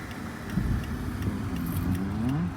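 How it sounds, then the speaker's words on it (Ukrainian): A stationary car with a manual gearbox runs with its engine on, a low, steady hum close by, with faint variation in tone. "у нас двигун запущений"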